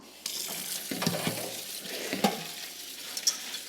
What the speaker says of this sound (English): Okay, so now that they've soaked, I'm gonna rinse them.